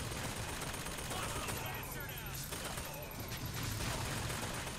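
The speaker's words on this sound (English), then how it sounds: "I mean, fireworks." Fireworks going off in the video game Bioshock Infinite, a rapid series of crackling bursts and pops layered over steady game ambience with speech underneath, continuous for several seconds.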